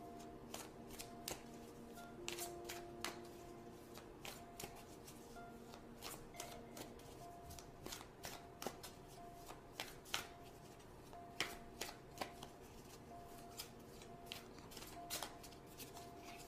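Tarot cards are shuffled by hand in a quiet room, a steady run of soft riffling and flicking with sharper snaps every second or so, close and faint, with no talking.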